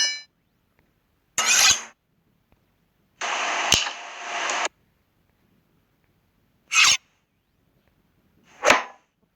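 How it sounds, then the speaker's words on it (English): Knife sound effects play alone in near silence: a few sharp, brief slashing swishes and one longer scraping sharpening stroke, crisp and close. "Like knife slash and knife sharpening."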